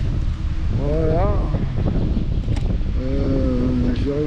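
Strong wind gusts at a riverside campsite, a continuous close rushing roar buffeting the microphone, with a person speaking over it.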